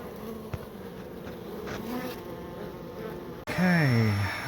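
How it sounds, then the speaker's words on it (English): Honeybees buzz steadily inside a beehive built into a brick pillar, a dense close drone that swells suddenly louder and higher near the end as the colony is disturbed. "I'm pulling this beehive out of the brick pillar"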